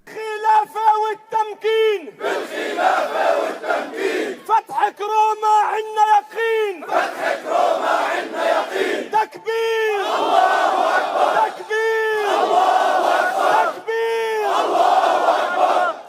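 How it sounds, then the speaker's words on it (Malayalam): A large crowd loudly chants takbir slogans in repeated, forceful unison bursts, with brief pauses between the swells of shouting voices. "തക്ബീർ വിളികളോടെ വലിയൊരു ജനക്കൂട്ടം ഉച്ചത്തിൽ ഏറ്റുപറയുന്നത് വീഡിയോയിൽ വ്യക്തമാണ്"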